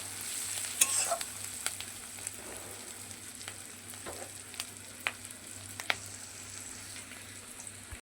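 Onion browning in a pan for a katla fish curry, a soft continuous sizzle with occasional crisp pops and light stirring scrapes, quiet and close with no talk.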